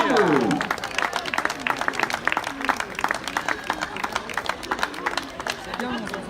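Scattered clapping and cheering from spectators at a trail race finish line in France, steady rhythmic applause with a brief voice at the start and crowd chatter underneath.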